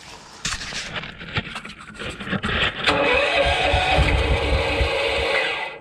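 A 2012 Craftsman by MTD 21-inch single-stage snowblower cranking as someone tries to start it, a rough pull-start churn that builds into a sustained, loud mechanical rumble close by, no speech.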